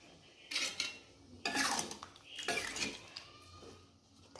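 Chili sambal fish stirred in a pan, several distinct bursts of a utensil scraping and clattering against the metal, close and moderately loud, with quiet gaps between strokes and no speech.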